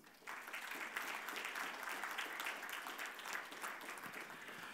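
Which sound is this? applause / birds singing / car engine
applause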